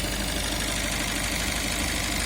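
A 2019 Peugeot Boxer van's diesel engine idles steadily up close, a constant low rumble with a slight knocking texture and no voices.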